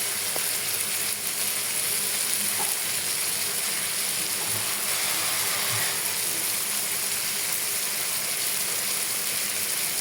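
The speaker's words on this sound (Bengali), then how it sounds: "একটু সিদ্ধ করতে হবে, সিদ্ধ না করলে তো আর হবে না" Beef pickle with tamarind and added water cooking in a pan, giving a steady, close bubbling sizzle that runs unbroken throughout with no voices.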